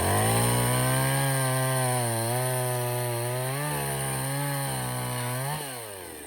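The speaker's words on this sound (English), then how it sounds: "I just use the weight of the chainsaw and the weight of the teeth to continue to cut around" Chainsaw cutting through a felled tree on the ground, the engine droning steadily at high revs up close, pitch wavering as the chain bites, then easing off near the end.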